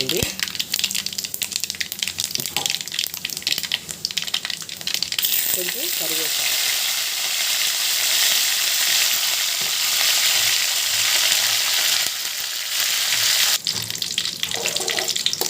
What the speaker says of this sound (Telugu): కొంచెం ఆవాలు జీలకర్ర ఇవి బాగా వేగనివ్వండి ఇందులో పచ్చెనపప్పు మినప్పప్పును కూడా వేసుకోండి